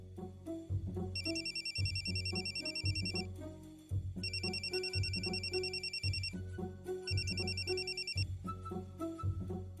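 A melodic electronic ringtone chimes in three repeated bursts over steady background music, fairly loud and close.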